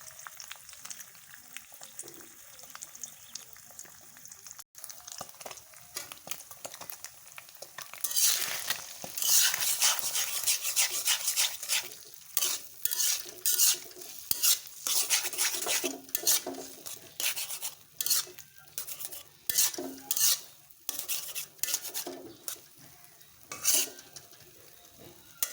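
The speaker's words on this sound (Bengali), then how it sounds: "ডিমটুকু ভেজে নিচ্ছি" Eggs frying on low heat in a pan, starting with faint clinks and scraping before a soft crackling sizzle builds and runs on under repeated spatula scrapes and stirring, close and with no talking.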